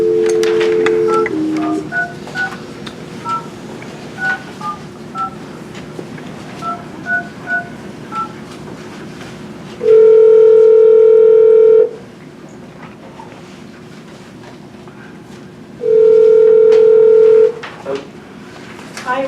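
A speakerphone in a transit agency meeting room dials out with a burst of touch-tone beeps, followed by two long ringback tones, while people murmur and shuffle faintly in the background.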